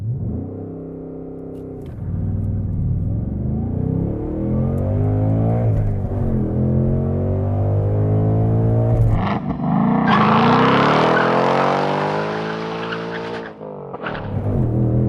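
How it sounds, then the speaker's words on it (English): A 2024 Ford Mustang GT with a 5-liter V8 launches hard under launch control, its engine note climbing steadily through gears in a loud, sustained roar with brief shift breaks and a final revving surge near the end. "2024 Ford Mustang GT. With launch control."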